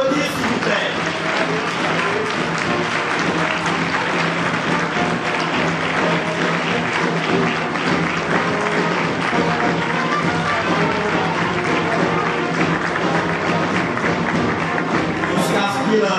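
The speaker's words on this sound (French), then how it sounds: "On peut les applaudir s'il vous plaît" A large public lecture audience in a hall applauds as the official delegation enters, a dense, steady wash of clapping that stays loud and unbroken throughout, with scattered taps and crowd murmur mixed in.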